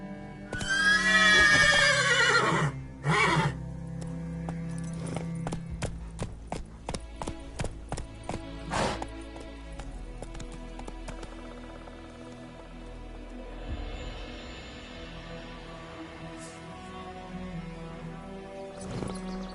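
Horse in The Witcher III on PS5 whinnies loudly at the start, then hooves clip-clop in a steady, quickening rhythm, close and clear over a soft ambient game background with faint rain.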